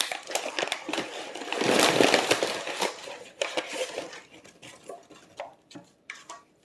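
Meal kit ingredients dumped out of their packaging onto a counter, a loud crinkling rush of plastic and clattering items, followed by scattered lighter rustles and taps.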